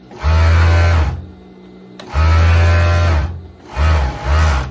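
An overlock sewing machine runs in three bursts, stitching the seams of a loose viscose dress with an overlaid skirt, its motor humming loud and close with brief pauses between runs.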